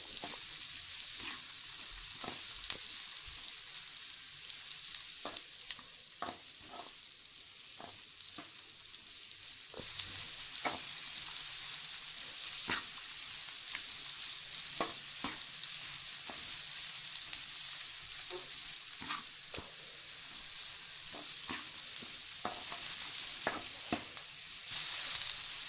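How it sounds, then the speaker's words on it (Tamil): Chopped small onions sizzle in hot oil for a Tamil small-onion kara kuzhambu, a continuous close frying hiss broken by frequent sharp taps and scrapes of stirring throughout. "அதுக்கப்புறம் நம்ம வெட்டி வச்சுருக்க சின்ன வெங்காயத்தை எண்ணெயில் போட்டு நல்லா வதக்குங்க"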